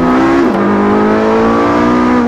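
Porsche 918 mid-engine hybrid sports car driving, its engine a loud steady drone with a clear tone that drops slightly in pitch early on and then holds even, heard from inside the car without talk.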